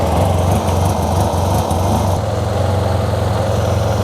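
A Yamaha TMAX 500 scooter engine with a suspected air or fuel-pump problem idles steadily and loud, with a buzzing, slightly uneven putter throughout and no talking.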